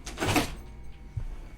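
A door swings with a soft scraping whoosh, followed a moment later by a dull low thud as it settles shut, quiet and close.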